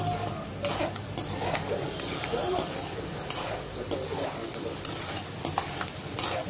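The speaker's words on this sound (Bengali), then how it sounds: "একটু লাল লাল করে ভাজি বাদামটা" Peanuts frying with a dried red chili in a pan, a close, steady sizzle broken by the scrape and clatter of a utensil stirring against the metal.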